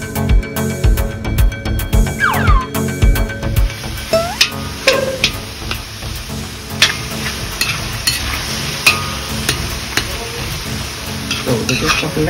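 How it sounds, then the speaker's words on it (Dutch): Canned sardines in oil frying with potatoes in a pan, a steady close sizzle broken by repeated stirring scrapes and clinks of a utensil against the pan, with no talking. "Olie Sardien bakken met aardappel."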